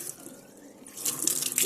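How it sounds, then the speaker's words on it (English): Water starts running from an opened tap in a caravan kitchen, a hiss of flow that swells louder in the final second after a quiet start. "then you can open your tap"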